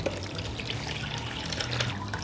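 Water runs in a steady trickle as it is drawn off from a brewing kettle into another vessel, a close, continuous splashing pour with no talk.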